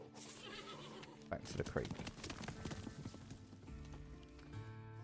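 Horse hooves clip-clopping with a whinny in the western game Above Snakes, a burst of quick hoof beats rising in the middle over ambient game sound, while someone speaks briefly.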